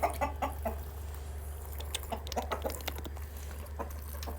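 Farmyard chickens clucking in short, scattered bursts at close to moderate range, with a steady low hum running underneath throughout.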